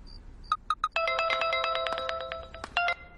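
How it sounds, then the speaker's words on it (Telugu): In a Telugu film scene, a phone ringtone sounds: a few quick beeps lead into a bright, repeating electronic melody that plays clearly on its own with no voices over it. "నాన్నకు ఫోన్ వచ్చిందిరా."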